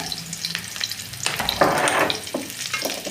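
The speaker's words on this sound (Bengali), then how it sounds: "রসুনটা ফোড়নে দিয়ে দিল, শুকনো লঙ্কা দিয়ে দিল" Loud, close sizzling of garlic and dried chili frying in hot oil, bursting into a stronger hiss midway, with scattered crackles and pops throughout.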